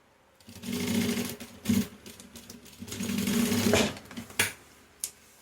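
A sewing machine stitches the top edge of a waterproof roll-up toiletry pouch, running in two long bursts with short pauses and a few clicks between them, close and fairly loud with no talk.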